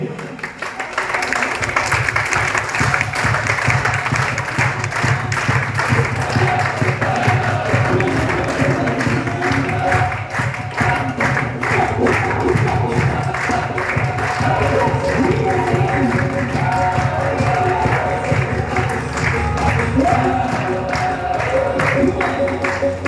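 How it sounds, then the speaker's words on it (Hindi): An audience at a stage event applauds directors brought up onto the stage, with dense, sustained clapping and crowd noise going on for over twenty seconds, mixed with a voice over a loudspeaker. "एक जोरदार तालियां सभी प्लेटिनम डायरेक्टर्स के लिए।"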